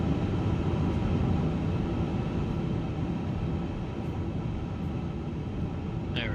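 An Airbus A350-1000 engine in Microsoft Flight Simulator 2024 spools up at start on the ground at Chicago O'Hare, a loud, steady broadband roar and whine that stays even throughout, with a faint rising tone near the end.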